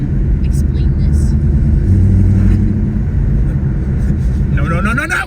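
A car drives and turns, its engine giving a steady, close, loud low rumble for the whole stretch, with voices in the cabin near the end.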